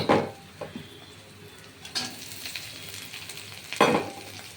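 Small mourala fish fry with ground spices in a pan, giving a soft continuous sizzle broken by a few sharp stirring scrapes, close and quiet without speech.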